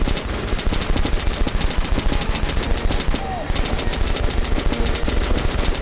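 Sustained rapid machine gun fire from a weapon in the shooter game Metro: Last Light Redux, loud and continuous with dense bursts throughout and no talk over it.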